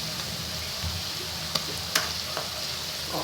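Onions frying and softening in a pan, giving a steady broadband sizzle with a few faint clicks of a utensil, heard alone at moderate level.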